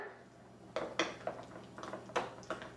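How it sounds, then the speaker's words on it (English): Spoon clinking against a bowl while stirring red pepper flakes into apricot preserves, a series of light, close metallic taps in an otherwise quiet kitchen. "I'm going to add the red pepper flakes to the apricot preserves and just mix them together"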